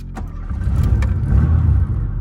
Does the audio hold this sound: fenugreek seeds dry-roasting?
no